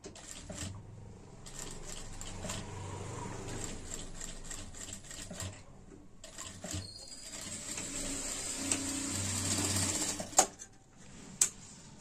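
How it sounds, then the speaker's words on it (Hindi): Electric sewing machine stitching a zip onto an old jacket, running in bursts of rapid mechanical clatter with pauses, then a couple of sharp clicks near the end, fairly quiet and close with no talk. "मशीन को आहिस्ता से चलाए"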